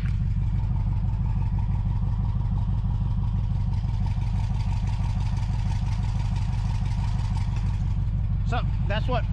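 A 5.3 liter V8 engine with headers and Flowtech Raptor mufflers, exhaust caps off, idles with a deep, lumpy, throbbing rumble, loud and close, steady throughout with a rattly exhaust tone.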